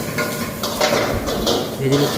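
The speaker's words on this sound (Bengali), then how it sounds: "লঙ্কা ফ্রাই হওয়ার পর এরপর দিব আমি কারি পাতা, ভালোভাবে ভেজে নিচ্ছি" Onion, chilli and curry leaves fry in a pan with a continuous close sizzle, punctuated by scraping stirs and light metallic clinks of a utensil against the pan.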